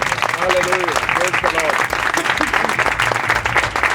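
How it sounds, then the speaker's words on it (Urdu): Audience applause at a family prayer meeting, a dense, steady wash of clapping lasting throughout, with voices and a sung or called-out tone rising over it early on. "اس ذات کے لیے ذرا زور سے تالیاں بجا دیجیے"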